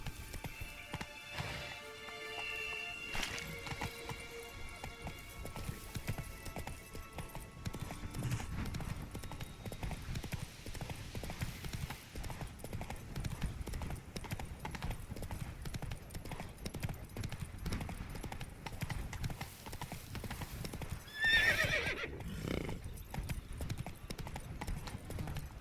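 Hoofbeats of the horse Roach clip-clopping in a steady trot through the video game Witcher 3, with ambient game music and effects around it and a brief whinny near the end.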